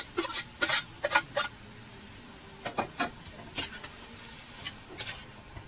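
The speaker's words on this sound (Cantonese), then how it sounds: "將蘿蔔絲炒勻" A spatula scrapes and clatters against a wok while stir-frying shredded radish with dried mushroom, dried shrimp and Chinese sausage, in short, irregular bursts, with quiet gaps between strokes and a soft background hiss.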